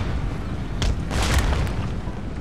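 Cannon fire in Empire: Total War during the siege of Venice, heard as a few dull booming blasts over steady low battlefield rumble, moderately loud with no talk.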